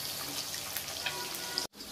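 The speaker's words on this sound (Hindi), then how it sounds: "और ये फ्राई हो रहा है" Katla fish pieces frying in hot oil, giving a steady dense crackle and hiss that breaks off briefly near the end before resuming.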